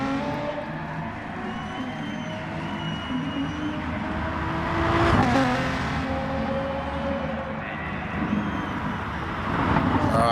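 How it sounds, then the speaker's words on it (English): A turbocharged BMW race car in the Castrol Perkins livery climbs Mountain Straight at Bathurst in a racing video game, its engine droning and winding up steadily, with louder surges mid-clip and near the end. "Up mountain straight now. Winding up the turbos of the BMW."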